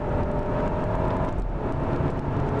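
A BMW 5 Series G30 sedan driven hard, its engine and road noise holding a loud, steady roar from inside the cabin with a slight dip midway as it shifts.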